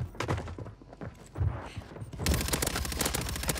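SMG conversion-kit fire in a shooter video game, rapid bursts of gunshots cracking repeatedly and growing denser and louder toward the end, with no talking over them.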